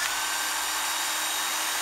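A used Japanese battery drill, old but working, hums at a constant high speed, close and steady for the whole stretch without any pause or voices.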